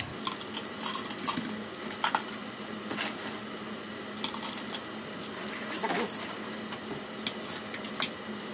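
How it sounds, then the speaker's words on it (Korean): Crushed ice is poured into a Collins glass for a mojito, with bright scattered clinks and rattles of ice hitting glass in irregular bursts, close and crisp. "잘게 부숴 놨던 이 크러쉬드 아이스를 잔에 5분의 4 높이까지 채웁니다"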